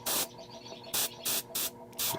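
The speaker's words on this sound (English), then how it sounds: "we'll gently be spraying up from the depths, adding a unifying shadow." An airbrush sprays thinned Magnolia brown paint mixed with airbrush medium onto a Darkoath miniature, giving five short, close hissing bursts separated by brief pauses.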